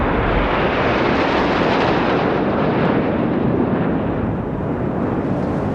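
Military jets fly past in formation at a Republic Day parade, a loud, continuous broadband roar that holds steady and fills the sky throughout.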